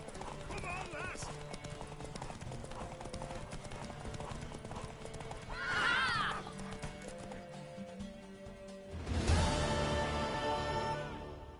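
Video-game horse hooves gallop steadily in a rapid clip-clop under ongoing character speech, with a loud whinny rising midway and another burst of hoof and horse noise near the end.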